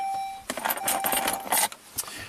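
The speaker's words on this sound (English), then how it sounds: "Turn the key on." Key jangling and turning in the ignition of a Saab 9-3 V6 Turbo that will not crank, a close metallic rattle lasting about a second and a half with a warning chime tone at the start.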